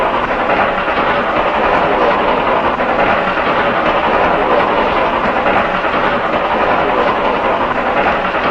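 A steam train rolls around a curve in a dense, unbroken roar of wheels and hissing steam, loud and close, steady for several seconds with no voices.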